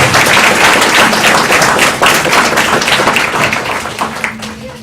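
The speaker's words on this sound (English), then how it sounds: "So let's give them a big round of applause." An audience at a school board meeting applauds students, with loud, dense clapping from a crowd that gradually thins out.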